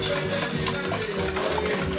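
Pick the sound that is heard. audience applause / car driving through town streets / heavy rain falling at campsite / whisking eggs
whisking eggs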